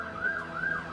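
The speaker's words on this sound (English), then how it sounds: "That's the sound of a teleport in Kellara's domain." A siren-like teleport effect in Kellara's domain during a tabletop game, a rising and falling wail sweeping twice over less than a second, steady and moderately loud.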